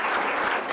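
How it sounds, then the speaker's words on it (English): A brief round of applause from the attendees at a business meeting, a dense, steady clatter of many hands clapping at once. "Let's give him another round of applause."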